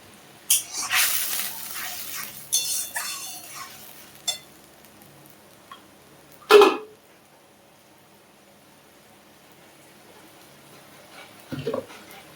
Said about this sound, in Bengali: একটু নেড়ে দিই।